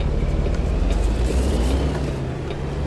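Steady, loud vehicle drone inside American Truck Simulator, with a continuous low rumble and engine hum where another car passes along the interstate, no talk over it.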